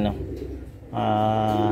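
A racing pigeon gives a close, low cooing call, a short burst followed by a longer sustained coo, with a person talking nearby.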